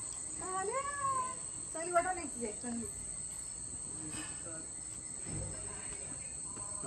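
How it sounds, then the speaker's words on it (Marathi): A cat meows a few times close by in a home kitchen where fish is being fried, with the meows rising and falling early on over a steady high electrical whine and background hiss. "ही बघ कशी आले मांजर."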